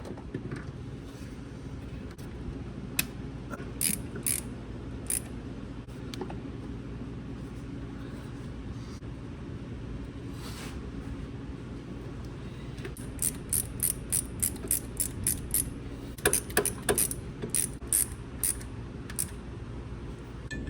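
A ratchet works while an alternator is refitted in a BMW 335i engine bay, with sparse single clicks early and then rapid bursts of sharp ratcheting clicks in the second half over a quiet garage background.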